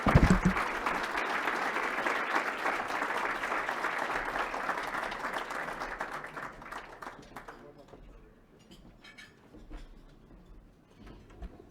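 Sustained crowd applause at the Beacon of Hope 2021 award ceremony, honoring staff, loud and dense for about six seconds before thinning into scattered claps and murmuring voices.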